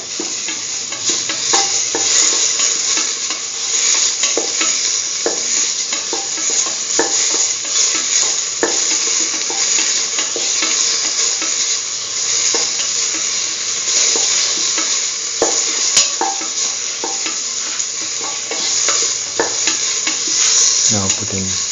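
Curried lentils sautéing in a hot pan, a loud steady sizzle with a spoon stirring and scraping close by, with occasional clinks against the pan.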